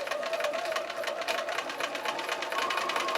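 A sewing machine runs steadily, stitching a scant quarter-inch seam through quilting fabric with a rapid, even mechanical whir and close, constant needle chatter, no voices.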